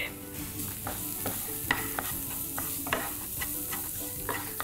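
Masala with artichokes sautés in a pan, with a constant sizzle and frequent spoon scrapes and clicks against the metal at an irregular pace, close up and free of speech.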